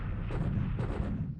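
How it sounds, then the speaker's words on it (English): Aerial bombing of Dili in the War in the Pacific strategy game: a series of dull, booming explosion bursts, with two louder blasts standing out over a rumbling low background. "And this is Dili being bombed."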